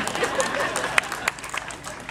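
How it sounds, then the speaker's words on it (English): An outdoor audience at a statue unveiling ceremony offers scattered, moderate applause with a few sharper individual claps standing out, blended with faint crowd murmur. "can clap for it, you can clap."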